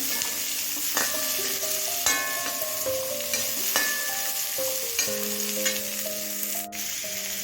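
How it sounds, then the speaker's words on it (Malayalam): Onions sautéing in a pan for white radish sambar give a bright, continuous sizzle with occasional stirring scrapes, heard close up, while faint sustained tones run in the background. "സവാള ഒന്ന് ചെറുതായിട്ട് ഒന്ന് മൂത്ത് വരട്ടെ"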